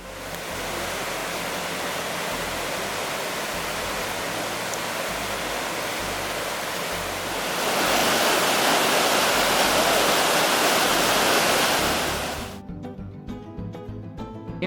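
A fast-flowing mountain stream in Patagonia rushes with a loud, continuous broadband roar that swells louder partway through, then drops abruptly to quieter ambience at the end.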